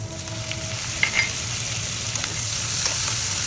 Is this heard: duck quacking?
no